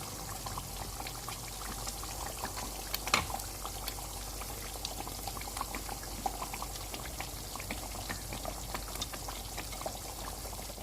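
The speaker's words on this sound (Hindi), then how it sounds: "अब हम इसमें फ़िश डाल देते हैं।" Fish pieces go into a masala curry simmering in a pot, giving one soft thud over faint, steady bubbling and popping that carries on quietly throughout.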